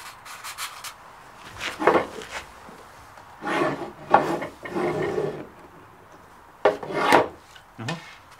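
Dry rasping and rustling of sandpaper being handled and rolled up during a brake repair on a Valmet 602 tractor, in several short bursts separated by pauses, close up.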